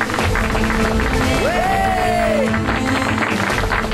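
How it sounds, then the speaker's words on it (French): A crowd claps and cheers throughout, a dense, steady wash of applause with a whistle-like whoop rising and falling in the middle. "Applaudissez,"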